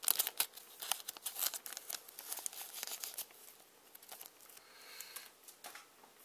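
Old scissors snip and crinkle through a Cardfight Vanguard booster pack wrapper, giving a close, busy run of crisp plastic crackles and short tearing cuts with no talking.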